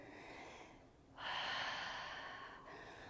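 Deep breathing during a yoga sculpt class: a long, close, airy exhale swells up after a softer breath and trails off, with no talking.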